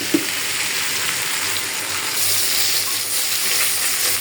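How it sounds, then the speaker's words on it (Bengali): Pangas fish pieces fry in a pan on a home kitchen stove, giving a steady, fairly loud hiss of sizzling oil that continues evenly without speech. "আর এদিকে পাঙ্গাস মাছ ভাজতেছি।"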